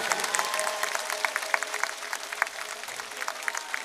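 Dense applause from a large political rally crowd in Banaskantha, many hands clapping at once with sharp individual claps standing out over a steady roar, fairly loud and close, with no clear talking.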